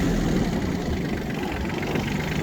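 A Yanmar AF17 mini tractor engine idles steadily nearby, a continuous low mechanical drone with even vibration and no change in speed.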